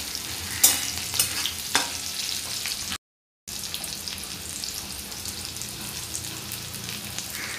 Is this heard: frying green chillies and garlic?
yes